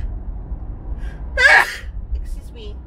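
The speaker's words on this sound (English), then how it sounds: "Oh my God. I'm going to sneeze." A single sharp sneeze bursts out once, close and fairly loud, over a low background hum.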